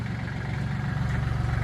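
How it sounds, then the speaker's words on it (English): A tractor engine idles with a low, steady throb and faint rhythmic pulsing, close and constant throughout. "Getting the tractor brought over here on the pad."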